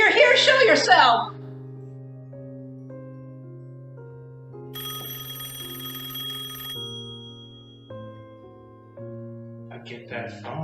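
A telephone bell rings inside a repair shop, its repeated tones steady and fairly loud through much of the scene, set between bursts of noise at the start and end.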